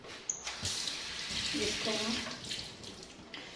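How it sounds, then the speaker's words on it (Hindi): Raw beef being rinsed under a running tap in a home kitchen, a steady broadband rush of water over meat with splashing, a voice briefly speaking over it. "फिर इसको वॉश करें और वॉश करने के बाद"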